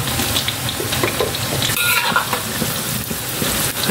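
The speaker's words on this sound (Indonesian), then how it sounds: "Minyaknya udah panas Lik, langsung saya goreng tempe dulu ini." Tempe frying in hot oil in a home kitchen, a constant loud crackling sizzle with scattered pops and a brief clink of utensils, close and unbroken throughout, no talking.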